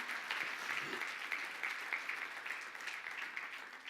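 A church congregation applauds during a Spanish-language evangelical service, a faint, distant, even wash of clapping lasting a few seconds with no voices over it.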